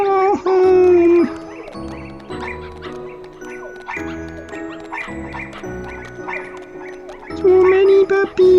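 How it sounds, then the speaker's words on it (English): Dalmatian puppies whimper and yip in the Kingdom Hearts video game, small dog cries layered over bright game music with tonal chimes, with louder bursts at the start and end. "So many puppies!"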